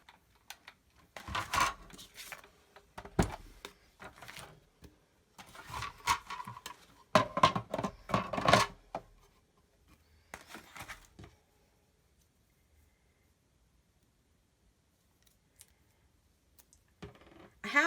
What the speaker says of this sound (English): we cut it with the Big Shot